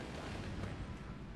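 Sailing ship's starboard cannon in Sea Dogs firing at a fort, heard as a short, steady low rumble of artillery-like booming, moderately loud throughout with no talk.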